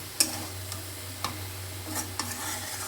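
Chopped tomatoes being stirred in a frying pan over a low sizzle, with a few light spoon clicks against the pan at irregular moments, quiet and close.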